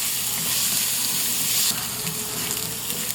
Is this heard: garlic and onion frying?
yes